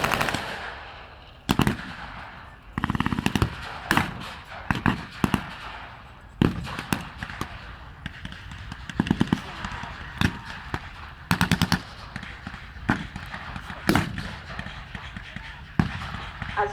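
Gunfire at a WW2 battle re-enactment, loud sharp bursts and single shots crackling at irregular intervals, some in rapid clusters, with a narrator's voice between them and a faint outdoor crowd ambience.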